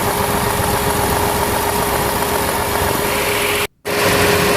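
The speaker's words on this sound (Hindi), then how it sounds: "बाहर चल के देखते हैं कंप्रेसर के कैसे हालात है। अभी ऑफ है, ऑन हो गया।" A Renault Kwid engine runs steadily near the car with its AC compressor on, a constant loud hum and whir broken by a brief cutout near the end before the running resumes.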